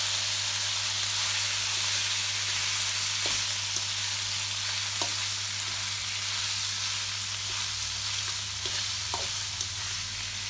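King prawns frying for fried rice in a hot pan give a loud, steady, close sizzle and hiss, with occasional faint clicks from stirring.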